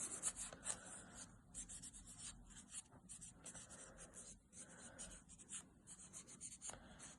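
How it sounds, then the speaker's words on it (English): Cotton soaked in alcohol rubs gel polish residue off fingernails, giving quiet, close scratchy wiping strokes in a quick irregular rhythm with no talking. "I'm just going to wipe away some of that residue."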